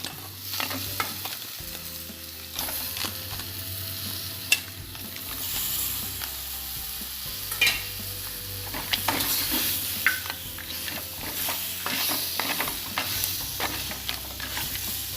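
Large crabs sizzle as they fry in hot masala in a clay pot, close and steady, with occasional stirring scrapes and clinks of a utensil against the pot.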